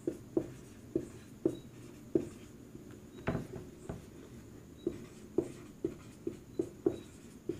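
Handwriting in a quiet room: a series of soft, close pen strokes in short bursts with an irregular rhythm.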